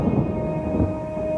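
Low, steady rumble of distant thunder from a building storm, a continuous muffled roll with no speech.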